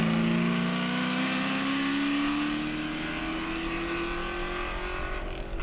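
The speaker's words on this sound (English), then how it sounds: "he manhandles the Mustang through the left and right and plants the right foot for the blast up the finishing" A Shelby Mustang race car accelerates up the finishing straight at the Shelsley Walsh hillclimb. Its loud engine note climbs steadily in pitch, then eases and fades slightly as the car pulls away.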